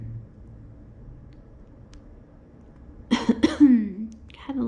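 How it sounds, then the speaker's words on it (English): A short dry cough, two or three quick hacks bunched together, close and fairly loud after a stretch of quiet room tone, followed by a brief vocal sound. "Had a little dry cough going on."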